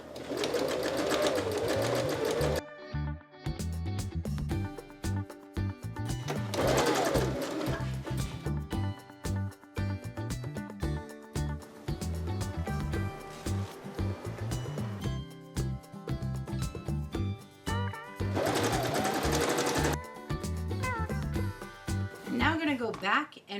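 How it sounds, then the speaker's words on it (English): A sewing machine runs long straight-stitch passes, sewing a zipper onto stacked scrap fabric for an apple-shaped pouch. Loud, steady motor whirring comes in bursts with short pauses between, and a voice talks over it. "my stacks are ready to go through the sewing machine for the first round"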